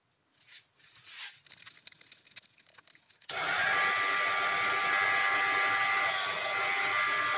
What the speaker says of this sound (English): The bigger boring bar makes it easy to get a nice finish on the last pass.